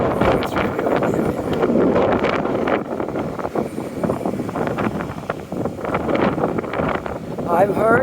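Strong cold wind buffets the microphone outdoors while walking a city neighbourhood street, a continuous loud roaring rush with gusts, under a voice talking.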